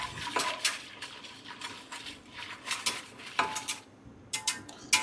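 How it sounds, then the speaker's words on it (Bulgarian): Brownie mixture is stirred in a metal pot, with a utensil scraping and clinking against the sides in irregular strokes, close up with no talking. "Разбърквам си го."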